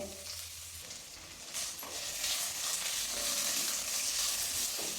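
Onions frying until soft with a steady sizzle and occasional stirring scrapes, building slightly louder after the first second and continuing without speech.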